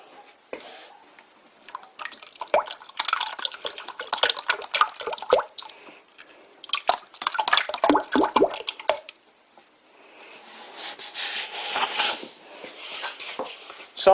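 Hydraulic oil poured into the gearbox of an old WW2 Fischer lathe, close, irregular dribbling and splashing in bursts with short pauses, a thin trickle and plops of liquid hitting metal.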